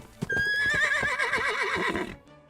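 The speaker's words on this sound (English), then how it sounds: "She would gallop and neigh so loudly that you could hear Ada from far, far away." A horse whinnies loudly and close, a long wavering neigh that rises and trembles before fading out.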